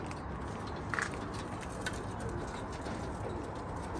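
Pigeons coo softly in a loft where high-grade racing homers are kept and sold, a low steady murmur under broad background noise with a couple of brief brighter calls.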